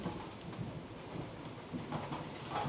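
Steady rain falls outside a house, a dense continuous patter with a low rumble underneath, close and fairly even throughout.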